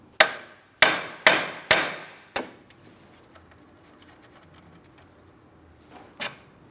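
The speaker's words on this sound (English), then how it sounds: "I'm going to lightly tap on my steering knuckle, causing vibration." A hammer strikes a car's steering knuckle on a 2004-2008 Pontiac Grand Prix during outer tie rod replacement: five sharp metallic taps in quick succession, then near quiet and one softer tap later.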